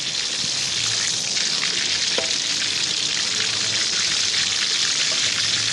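Pork belly deep-frying in oil for crispy pork, a loud, dense, continuous sizzle with faint crackles, steady and close with no voices.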